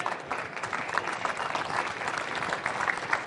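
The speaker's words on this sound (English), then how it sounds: "give them a round of applause" Audience applause after a case study presentation, an even, continuous patter of many hands clapping at moderate volume, steady and without talk.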